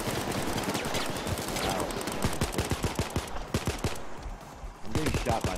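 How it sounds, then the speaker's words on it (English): Rapid gunfire in the Payday 2 video game rattles in dense, close bursts of sharp shots hitting the player, nearly continuous with only a short thinning before the shots pick up again. "I'm getting shot by something."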